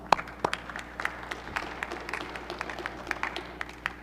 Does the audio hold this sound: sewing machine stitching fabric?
no